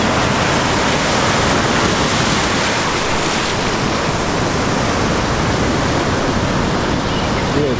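Rough sea surf rolls in continuously at Baina beach in Vasco, Goa, a loud, dense roar of breaking waves with wind buffeting the microphone.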